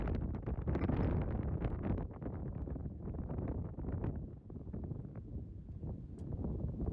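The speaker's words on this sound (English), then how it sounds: "Hear how windy it is." Strong wind during a tornado outbreak in Hancock County, Illinois, roars and buffets the microphone in loud, gusty bursts that continue throughout with no talk.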